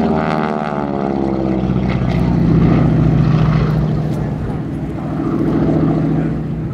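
T-6 Texan propeller airplane flying an aerobatic inside loop at an airshow, its loud radial engine droning continuously with the pitch and loudness swelling and easing as it climbs and dives.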